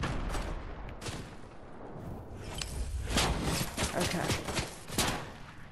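Scattered bursts of gunfire crack through a first-person shooter video game, with sharp shots and rapid clusters over background game noise. A player's voice is briefly heard.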